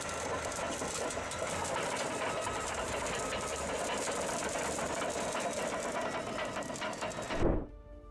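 Continuous heavy engine roar of a Cat 793F haul truck stuck in mud, with grinding metal-on-metal and rattling undertones, loud and steady for several seconds before cutting off abruptly.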